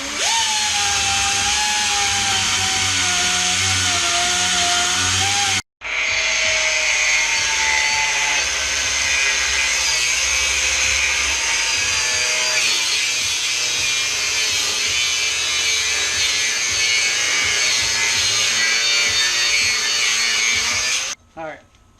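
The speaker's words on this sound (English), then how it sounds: "now we just got to basically follow our line with a rotary file and sander" Rotary file and sander grinding 1/8 inch metal for a Honda Civic drag chassis build, a loud, continuous whining power-tool drone with a brief cut-out partway through and a stop near the end.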